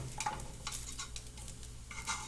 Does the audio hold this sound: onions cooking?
yes